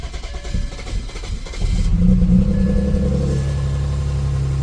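A 2007 BMW 335xi six-cylinder engine cranks briefly, then catches and settles into a steady, loud running rumble close by.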